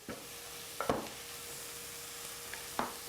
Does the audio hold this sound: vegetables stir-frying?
yes